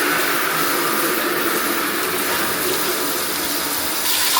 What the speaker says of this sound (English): So here is my bucket. Usually I put my shower to about this.